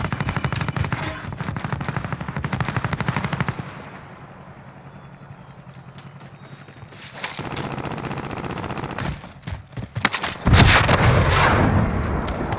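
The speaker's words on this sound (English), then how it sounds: "Be advised, friendly precision airstrike inbound." Precision airstrike explosions and gunfire in the Call of Duty: Modern Warfare video game: rapid bursts of loud automatic fire, a quieter lull, then more shots and heavy booming blasts that rumble and crack near the end.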